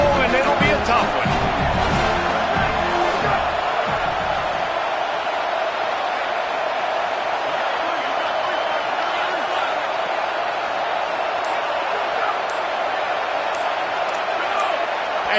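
Stadium crowd roaring in College Football 27 during a USC vs Ohio State game, a dense sustained wall of cheering at high volume, with a rumbling low end that thins out after the opening seconds.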